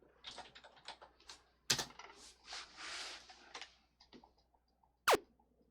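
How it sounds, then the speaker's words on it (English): Computer keyboard typing while playing the PC game Nanopocalypse Now, heard as bursts of quick clicky keystrokes with a few sharper louder taps, fairly close and with no talking. "I'm using the keyboard for this."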